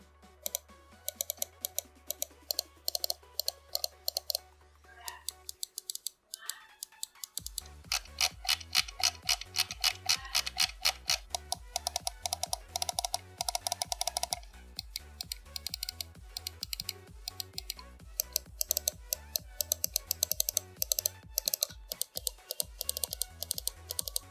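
Button clicks from a Zowie EC1A computer mouse: after a quiet opening with a low hum, crisp rapid clicks come close and dry in fast irregular bursts and steady runs.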